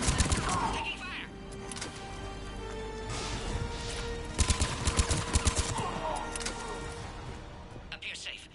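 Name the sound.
gunfire during heavy attack in video game Mass Effect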